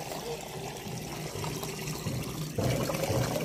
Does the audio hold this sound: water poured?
yes